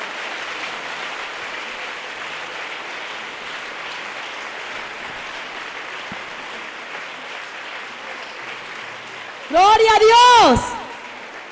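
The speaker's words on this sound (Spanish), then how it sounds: "¿Cuántos le dan un aplauso a ese Dios tan grande?" A church congregation breaks into a short burst of applause near the end, following a long stretch of steady, muffled crowd noise, with a voice speaking briefly over the clapping.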